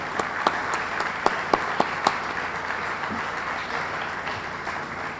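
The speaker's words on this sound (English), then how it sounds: "I'd like to give them a round of applause." Crowd applause for union workers at the South Station groundbreaking in Boston, a steady wash of clapping across the whole stretch with a few sharper, louder claps standing out near the start, heard in an open outdoor setting.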